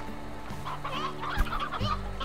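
Chickens in the video game Slime Rancher cluck close by in short, busy bursts, with a low hum underneath.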